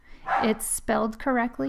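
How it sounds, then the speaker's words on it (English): Dogs bark repeatedly in the background, loud enough to stand out, while a person speaks over them. "Sorry about the barking dogs."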